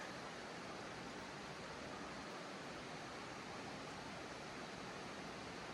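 A mountain creek runs steadily in a forested alpine setting, a continuous broadband rush of flowing water with no breaks, close and fairly loud, with no voices.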